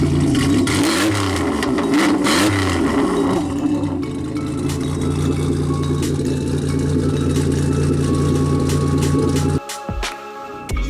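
A Fiero GT engine revs up repeatedly in short rising bursts, then settles into a steady idle, loud and close, before cutting off abruptly near the end.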